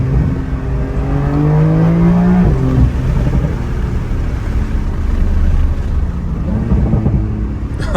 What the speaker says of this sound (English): I know you can definitely hear those pops